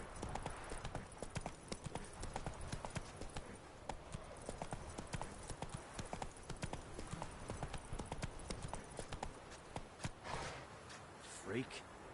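Roach the horse galloping in The Witcher III, a fast even drumming of hooves throughout, dropping off near the end as a brief snort or whinny rises.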